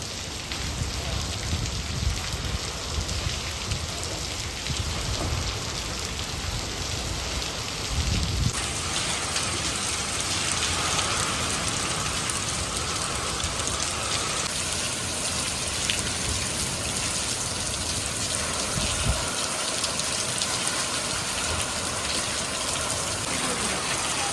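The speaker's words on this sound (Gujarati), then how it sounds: "પવન રહી ગયો છે વરસાદ હજી કન્ટિન્યુ ચાલુ જ છે એક કલાકથી" Heavy rain keeps pouring in a courtyard after a windstorm, a dense, steady hiss of drops drumming on surfaces for the whole stretch, loud and unbroken, with a faint voice underneath.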